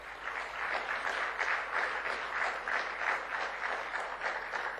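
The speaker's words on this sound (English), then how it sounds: "a big round of applause to the steering committee of this wonderful event." A conference audience gives the event's steering committee a round of applause: continuous, even, fairly distant clapping from a large room with a faint low hum beneath it and no voices.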